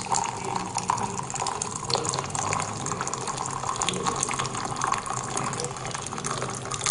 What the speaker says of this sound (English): Let's pour in some hot liquid inside a magical mug and let's see what happens.